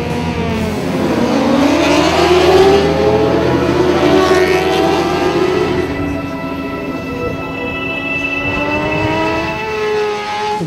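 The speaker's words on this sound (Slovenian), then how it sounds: "Slovenski dan na Grobniku ni le možnost za motoriste, da se v varnem okolju dirkališča zdivjajo in preizkusijo meje svojih motorjev" Motorcycles racing on the Grobnik circuit, engines loud and close with rising and falling whines as bikes accelerate and sweep past one after another, no talking.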